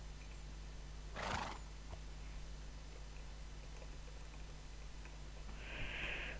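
A horse in the game Minecraft whinnies briefly and faintly, with a second short neigh or snort a few seconds later, over a quiet steady hum.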